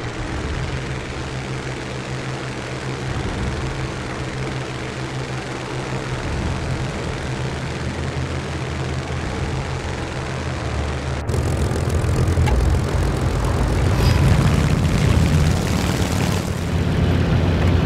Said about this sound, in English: While Japanese fighters were defending Shokaku and Zuikaku, Japanese bombers were approaching the Lexington and Yorktown.